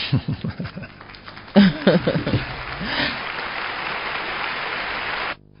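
An audience applauds in a business talk setting, a burst of clapping that starts abruptly after brief speech, stays fairly steady and moderately loud for several seconds, then cuts off.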